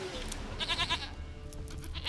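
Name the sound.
goat bleating in The Witcher 3 video game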